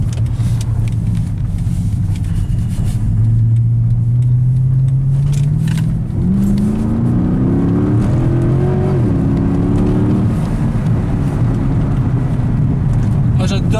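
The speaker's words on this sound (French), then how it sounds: "moi j'adore le bruit des V8 AMG" A Mercedes C63 AMG with its V8 engine accelerates hard from inside the car, the deep rumbling note climbing steadily in pitch through the gears, loud and close and continuous throughout.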